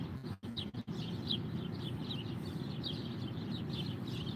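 Birds chirp outdoors in quick repeating bright tweets spread through the whole stretch, moderately near, over a low background rumble, with a couple of brief dropouts near the start and no talk.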